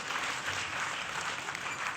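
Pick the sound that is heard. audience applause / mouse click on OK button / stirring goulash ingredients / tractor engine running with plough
audience applause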